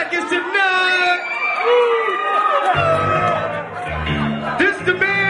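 A crowd at a rap performance cheering and whooping for a performer, with loud shouts and voices rising over a thumping beat, close and busy throughout.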